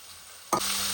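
Chopped capsicum and chillies hit hot oil in a kadai with a sudden loud splash, then settle into a steady close sizzle.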